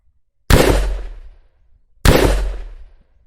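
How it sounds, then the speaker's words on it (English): Two heavy, booming shotgun blasts from an Unreal Engine 4 third-person shooter, spaced about a second and a half apart, each ringing out with a long decaying tail into silence. "the shotgun is working as a shotgun with some delay between shooting"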